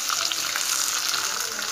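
Spices frying in a pan for curd rice, a loud, dense, even crackling sizzle close by with no pause, and no talking.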